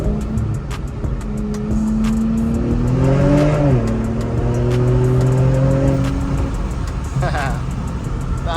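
An Infiniti Q50/Q60 with stock lower downpipes revs its engine and exhaust in a loud rising snarl that peaks and settles into a steady drone, with short sharp crackles and a voice heard faintly alongside.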